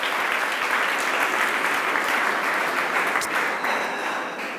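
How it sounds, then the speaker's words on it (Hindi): An audience applauds steadily and loudly throughout at a talk on values, dharma versus wealth, a dense continuous wash of clapping with no speech over it. "बात में दम तो ताली जरूर."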